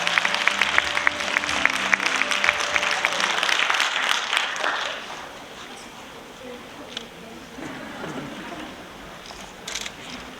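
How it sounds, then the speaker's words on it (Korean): Lecture audience applauding before the talk begins, with dense clapping for about five seconds that then fades into quieter room noise and faint voices, ending in a few scattered claps. "여러분의 다시 한번 힘찬 박수와 함께 유시민 작가님의 강의를 시작하겠습니다."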